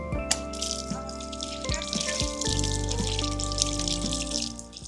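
Water runs steadily from a drinking fountain spout in a continuous splashing stream, close by, with a low tonal hum in the background, in Pomorie, Bulgaria.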